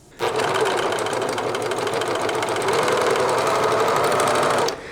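An overlock serger runs along the edge of a fabric belt loop for summer shorts, producing a steady loud mechanical hum with fast rhythmic needle chatter that starts abruptly and stops cleanly after about four and a half seconds.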